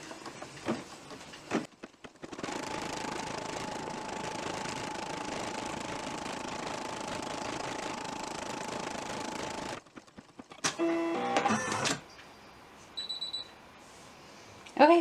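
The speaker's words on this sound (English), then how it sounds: "it's going to stitch out that whole thing again and then close this off" An embroidery machine stitching out a gingerbread ornament design gives a steady mechanical whir with a rapid needle rhythm that runs for several seconds and then stops, followed by brief clicks and short bursts of machine noise.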